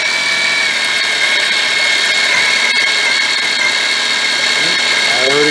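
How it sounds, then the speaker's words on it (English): A power drill cutting a metal spacer plate whines steadily at high speed, a loud continuous motor drone with a bright metallic edge, running without a break. "My drill speed may be a little high."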